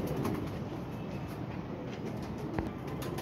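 Pigeons coo softly over a dense, noisy background with a steady low rumble, and the calls are faint and partly masked.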